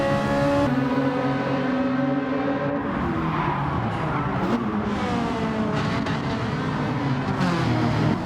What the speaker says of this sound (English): this Ferrari sounds incredible all the time